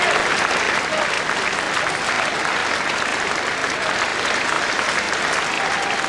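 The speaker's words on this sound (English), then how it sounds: "some nice, polite, welcoming applause for the challenger" Polite, welcoming applause from a boxing crowd greets the challenger before the bout, an even, continuous patter of many hands clapping throughout.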